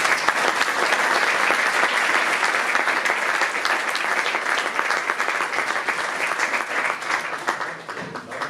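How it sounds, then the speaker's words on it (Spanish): An audience at a book presentation breaks into warm, continuous applause, a dense wash of many hands clapping that holds steady and tapers slightly near the end. "Un aplauso a Charo."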